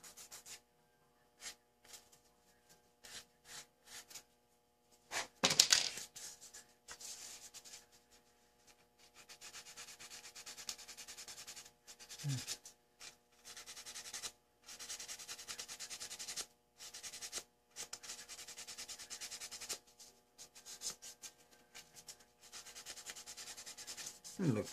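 Hand sanding of a model figure's painted flesh areas, heard as soft, close rubbing strokes in irregular bursts with pauses between, quiet and alone with no talk.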